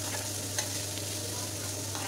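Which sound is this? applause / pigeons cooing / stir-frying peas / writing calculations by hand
stir-frying peas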